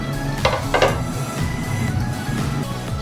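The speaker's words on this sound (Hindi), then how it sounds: "तो हमारा तेल गर्म हो गया, इसके अंदर हम प्याज को ऐड कर देते हैं।" Onions going into hot oil in a pan for a chicken and cauliflower dish, giving a close, steady sizzle with a couple of sharp clatters of utensils early on and continuous stirring and pan noise throughout.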